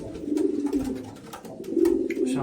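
Pigeons coo steadily inside a loft, their soft, throaty calls overlapping in a continuous murmur heard close by, with no talking.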